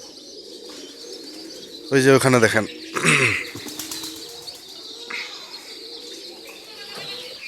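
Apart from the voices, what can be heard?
pigeons cooing and flapping wings in a village yard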